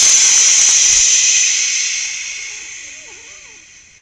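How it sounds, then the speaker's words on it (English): A match is struck to light a kindling fire of twigs, branches and a log, giving a loud, bright hissing flare at the start that steadily fades and softens over about four seconds. "all we need to do to get that fire started is to strike a match"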